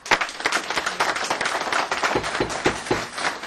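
Audience applause fills a senate committee hearing room during public testimony, a dense, steady wash of many hands clapping with occasional sharper individual claps, moderately loud and continuous throughout.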